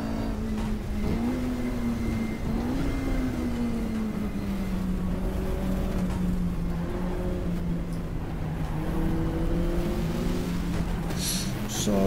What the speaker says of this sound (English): I've been passed by a Lola T70 and a Porsche